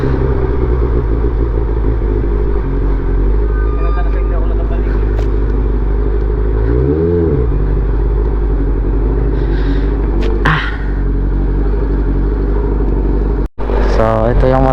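A Honda CB400 motorcycle engine runs continuously with a loud, steady low rumble outdoors, holding a constant drone with a few brief revs and clatters along the way.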